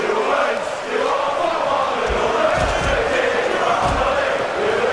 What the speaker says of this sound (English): The crowd is not happy at all.